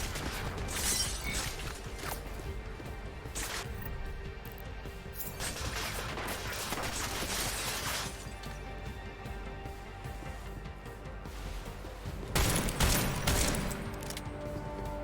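Gunfire fills Deus Ex: Mankind Divided in repeated loud bursts of shots and clattering impacts over a steady game background, with heavy volleys near the start, middle and end.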